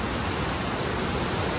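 Broadband roar of river water rushing through the Koshi Barrage in Nepal during high flow, a steady, loud, dense wash with no breaks and no voices.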